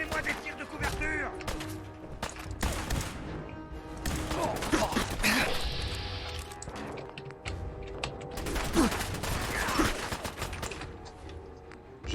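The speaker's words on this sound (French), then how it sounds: "Donnez-moi des tirs de couverture." Covering gunfire in the video game Fallout 4: dense bursts of game gunshots and impacts run throughout, loud and continuous, mixed with clanking mechanical effects and voices speaking over the action.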